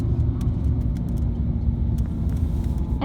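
Steady low road rumble from a car driving through a Sami summer camp near the North Cape, continuous and even with faint scattered ticks and no talking.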